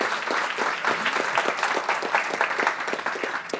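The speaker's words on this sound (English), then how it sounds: "or you can applaud now" Audience applause at a science event, a steady round of clapping from a moderately sized crowd with individual claps distinct in a lively, even rhythm, somewhat distant and without voices.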